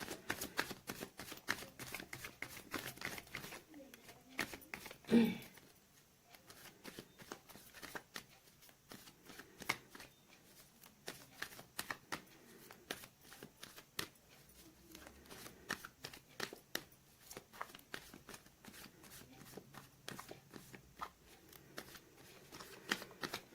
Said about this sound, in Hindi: गाइस, मैंने कर लिया है कार्ड्स की सफलिंग।